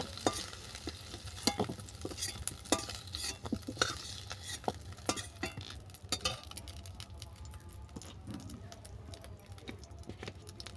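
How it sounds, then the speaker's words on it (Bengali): Elephant apple (chalta) pieces frying in oil until reddish, heard as a crackling sizzle up close, punctuated by repeated clinks and scrapes of a utensil stirring in the pan. "চালতাটা অবশ্যই লাল লাল করে ভেজে নেবে"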